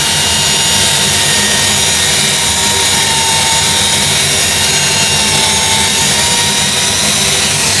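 A large woodturning lathe runs steadily with its dust extraction hood and pipe drawing air, giving a loud, continuous whooshing roar with no voices.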